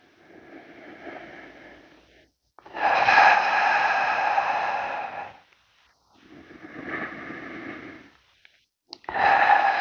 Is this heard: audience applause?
no